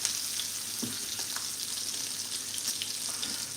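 Bacon frying in a pan, a steady soft sizzle and crackle with occasional faint pops, low and continuous with no talk.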